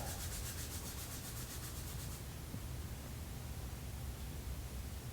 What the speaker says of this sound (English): put it in your palm, rub your hands together